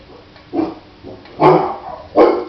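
Dogs bark in three loud, separate bursts, the barks rough and close by, with a few fainter yips in the gaps and no talking.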